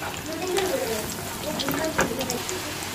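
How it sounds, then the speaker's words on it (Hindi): Aloo bonda potato fritters deep frying in hot oil, a steady soft sizzle and bubbling with faint stirring clinks and spatters throughout. "और इसके बाद बाकी के बोंडे भी फ्राई कर लेंगे।"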